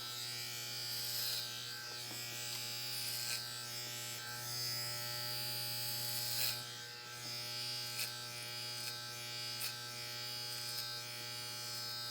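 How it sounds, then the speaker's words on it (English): An electric hair clipper buzzes steadily at close range, cutting hair in a quick home kitchen haircut, its hum continuous with small shifts in tone as it moves, with no talking. "I'm just pointing the top of my clipper straight at the ceiling"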